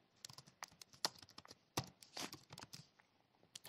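Faint, close keystrokes on a computer keyboard come in irregular short runs and single taps, quiet and without talk.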